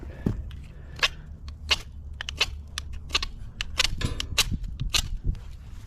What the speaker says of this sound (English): I'm just gonna hit it the old ferro rod and from the Meier knife.